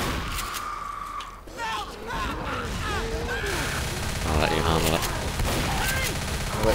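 Shotgun blasts and chaotic gunfire erupt during a tank fight in Left 4 Dead, crowded together in a busy, loud mix under overlapping shouting voices.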